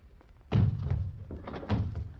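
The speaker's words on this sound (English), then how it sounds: "He's locked the door." A door in an old 1940s film is pushed shut and locked, a heavy close thunk followed by a few softer knocks and rattles, with no voices over it.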